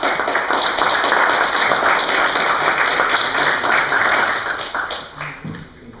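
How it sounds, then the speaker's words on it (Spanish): An audience at a book presentation applauds steadily for several seconds, and the clapping tapers off toward the end. "Demos las palmas al profesor Cristóbal."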